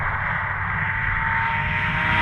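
A 2013 Lamborghini Gallardo on a race track gives a steady, loud engine drone that holds constant and climbs slightly toward the end.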